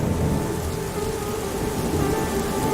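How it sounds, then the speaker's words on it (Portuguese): Steady rain drums on the roof of a car at night, a dense, constant patter with a low rumbling undertone throughout, no voices. "O som da chuva batendo no teto do carro fazia um barulho relaxante"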